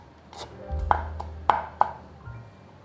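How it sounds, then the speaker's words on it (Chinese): Knife chopping carrot on a cutting board, a few sharp, distinct taps spaced irregularly over roughly three seconds, close and clear with no talking. "再来切碎，"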